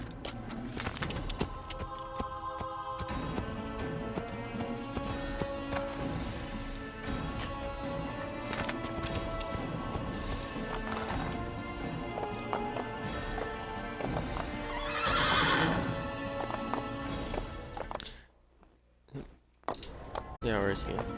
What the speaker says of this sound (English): there's my horse trying to catch up